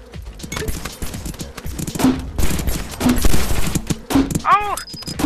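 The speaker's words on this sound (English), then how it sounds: "Stop shooting me, Casper! Stop shooting me" Rapid gunfire from a battle royale video game, bursts of shots crackling under a loud, excited voice with laughter and shouting throughout.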